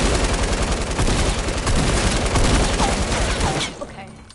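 Sniper gunshots ring out in a video game firefight, a dense, loud crackle of rapid bursts that runs for about three and a half seconds and then cuts to near silence.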